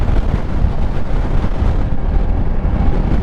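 Gusty wind pounds a rider on a Kymco AK 550 motorcycle, a loud, steady, close rumble of buffeting with constant low roar and no break.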